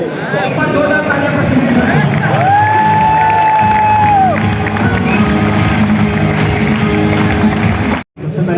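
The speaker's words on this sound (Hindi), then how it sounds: "एक बार जोरदार तालियां" Hall of NEET exam students bursts into loud applause and cheering, a dense roar of clapping and shouts with a sustained tone sweeping through the middle, staying loud throughout and cutting off abruptly near the end.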